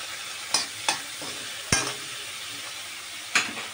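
A spoonful of butter sizzles in a frying pan with chickpeas for a chicken chana dish, a soft steady hiss punctuated by four or five sharp stirring knocks and scrapes, with no voices.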